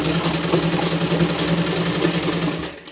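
A sewing machine stitches the side seam of an A-line suit in a fast, continuous mechanical buzz with a steady hum, close and loud, slowing at the very end.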